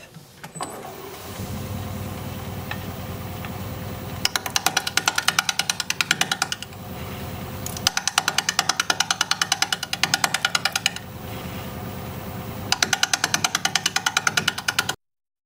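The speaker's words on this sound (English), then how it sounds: "we're going to be doing that at 580 RPM with a 5/8 inch bowl gouge" Wood lathe running at 580 RPM while a 5/8 inch bowl gouge cuts a bowl, a steady low motor hum broken by bursts of rapid rhythmic chattering cuts, close and loud, with no talking.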